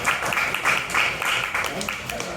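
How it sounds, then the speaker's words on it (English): A crowd at a Mortal Kombat panel in an arcade applauds with dense, steady clapping that runs throughout, with some voices mixed in. "Round of applause."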